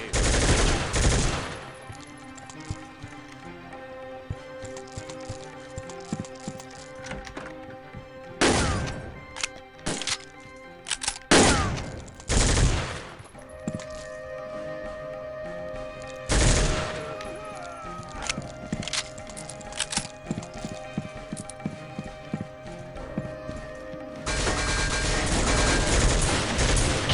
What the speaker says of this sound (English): I think it's time for an assault rifle.